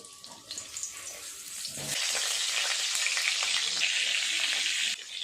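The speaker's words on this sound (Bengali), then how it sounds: "তেল গরম হয়ে গেছে, আলুগুলো আগে ভেজে নেব" Potatoes and papaya hit hot oil and a loud, continuous sizzle erupts and holds steady after a quieter stretch of kitchen noise.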